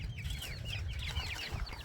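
Backyard homestead chickens cluck and chatter nearby in a steady, busy stream of short calls, with no talking.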